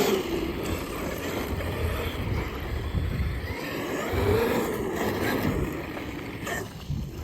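A Traxxas X-Maxx RC truck drives outdoors, its electric motor whirring steadily with shifting pitch amid rumble and wind buffeting, no talk.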